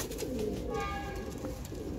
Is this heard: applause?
no